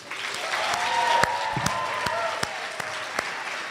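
Polite applause from a room of guests at a coronation ball, honoring candidates, sponsors and families, moderate clapping with a few sharp distinct claps standing out and a faint tone running through.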